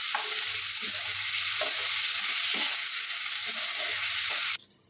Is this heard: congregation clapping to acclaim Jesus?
no